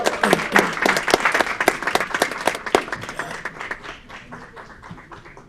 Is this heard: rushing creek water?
no